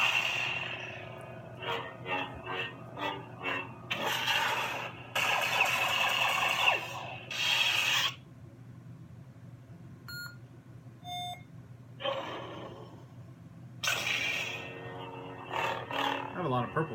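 Custom lightsaber sound effects: bursts of crackling hum and buzzy swings, separated by a few short electronic beeps, fairly quiet with a low background hum.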